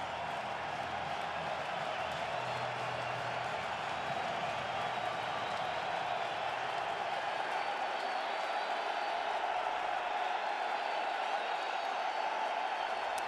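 A packed baseball stadium crowd at a Reds–Phillies game roars on its feet in the second inning, a steady, dense wash of cheering and clapping that holds at full strength throughout.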